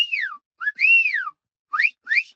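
A person gives a family whistle, a series of four clear, loud rising and falling whistled notes with short pauses between them, close by.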